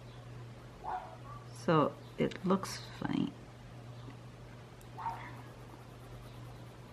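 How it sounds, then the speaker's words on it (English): A neighbor's small dog lets out a quick burst of sharp, yappy barks at a moderate distance, then a faint one later. A person talks briefly nearby, and a low steady hum runs underneath. "Hello, little neighbor dog."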